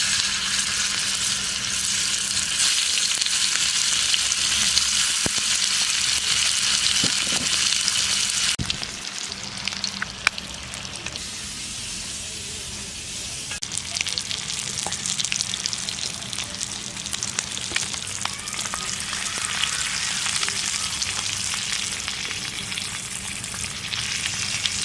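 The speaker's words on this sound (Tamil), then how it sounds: "இப்போ நம்ம தோசை தவால போட்டுக்கலாம்." Marinated rohu fish fries on a dosa tawa with a loud, continuous sizzle that dips partway through and then resumes at a slightly lower, crackling level, no talking.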